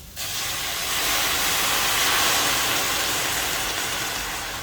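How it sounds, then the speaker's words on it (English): Water pours from a tea kettle into a dish while garlic herb tomatoes are being made. The steady hissing pour starts almost at once and holds evenly throughout, with no talk. "then what we do is we add some water, and I've got some in this tea kettle already"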